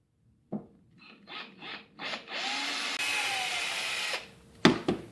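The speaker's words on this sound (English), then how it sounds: "Drill it out." A power drill whirs into metal in a few short bursts, then one longer steady grinding run, followed by a sharp clatter.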